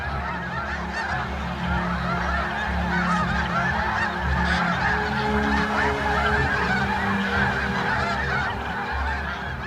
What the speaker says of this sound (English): snow geese fill the sky